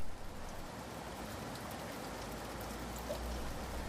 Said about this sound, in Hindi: अचानक बहुत बारिश होने लगी